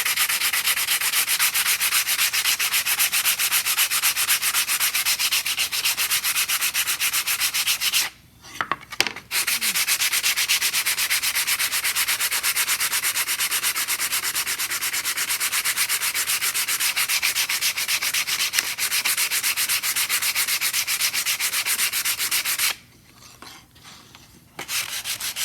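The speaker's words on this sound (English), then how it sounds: "you're just going to sand it back and forth" Sandpaper rubbed back and forth along the grain of a wooden square, a loud, close, continuous rasping with fast even strokes, broken by two short pauses, no voices.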